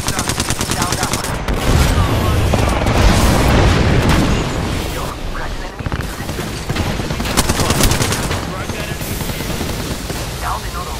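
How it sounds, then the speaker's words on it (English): Gunfire in the video game Apex Legends, dense rapid automatic bursts and heavy booming shots layered over one another for the whole stretch, loud and close, with voices calling out beneath the shooting. "Being shot at. Cracked a bit. Taking fire!"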